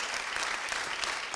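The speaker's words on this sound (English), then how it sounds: "we get to clap for that right now, really loudly" Town hall audience in New Hampshire applauding loudly, a dense, steady wash of clapping that holds at even volume throughout with no voices standing out.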